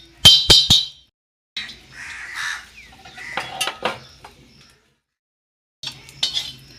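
A cooking pot is lifted off a traditional village wood-fired stove, giving a few sharp metallic clinks and scrapes followed by softer clattering and shuffling, with quiet gaps between the bursts and no speech.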